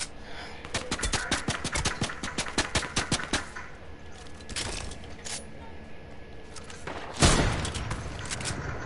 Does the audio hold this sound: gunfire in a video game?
yes